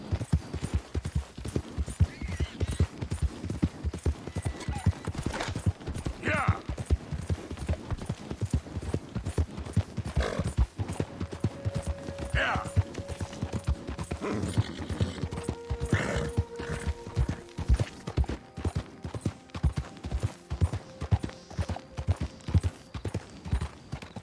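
Horse hooves clip-clop in the video game Red Dead Redemption 2: a steady, even run of hoofbeats lasting throughout, moderately loud, with occasional brief tonal game sounds layered over the rhythm.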